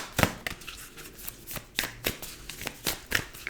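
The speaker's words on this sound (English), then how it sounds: "One more shuffle." Tarot cards being shuffled by hand in a series of quick riffling bursts and soft slaps, close and fairly quiet, with no talking.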